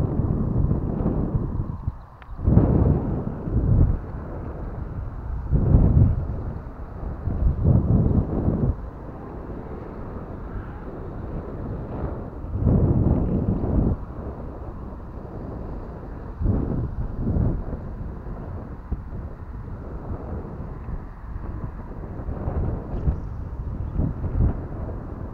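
Gusty wind buffets the microphone outdoors at Ordu-Giresun airport, with loud low rumbling bursts rising and falling every few seconds over a steady windy background.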